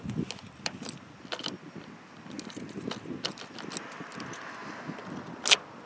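Car key being tried in the door lock of a Toyota tC, with scattered metallic jangles and clicks up close and a sharper rattle near the end.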